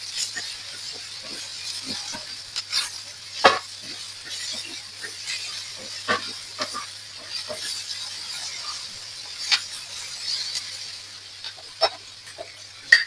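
A spoon stirs salt into a pan of egg and aubergine curry, giving scattered scrapes and clinks over a steady background hiss.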